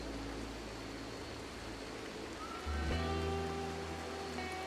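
Rain falls steadily in the video game RimWorld as a soft, even hiss with no pauses, quiet and continuous, joined midway by a low electronic hum from the game.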